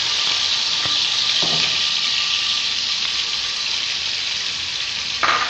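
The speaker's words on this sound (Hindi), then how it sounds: "उसके अंदर ये लहसुन का पेस्ट जाएगा, तेल गरम होना चाहिए आपका" Garlic paste frying in about half a cup of hot oil for a breakfast dish gives a steady, close, bright sizzle that holds evenly throughout, with a few faint pops and no talking.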